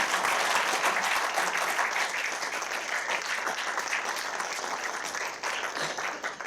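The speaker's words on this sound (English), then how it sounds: "can we give Val a quick round of applause?" An audience at a memorial lecture gives Val a round of applause, dense clapping from many hands filling the room, loud and steady before slowly thinning toward the end.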